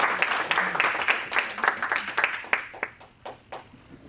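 Applause from a convention audience at AggieCon 55, a dense burst of clapping that thins into scattered, separate claps toward the end, with no one talking.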